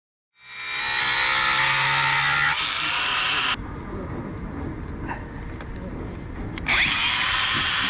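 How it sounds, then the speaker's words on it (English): An angle grinder cuts into the hexagon head of an A4 stainless steel bolt, a loud high whine that drops in pitch as it bites into the metal, eases off, then screams back up near the end. "I use a grinder and I cut on four sides of the hexagon bolt head"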